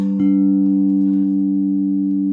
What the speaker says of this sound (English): Now with crystals, they tend to just hold the straight note.